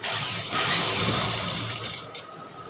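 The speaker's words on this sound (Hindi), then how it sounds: "यहाँ पे आधा इंच का मार्जिन लेते हुए सिलाई लगा लेंगे इस तरीके से" A domestic sewing machine runs steadily, stitching a dart seam with a half-inch margin on a plain blouse, a close, continuous whirring hum for most of the stretch that eases off near the end, with no talking.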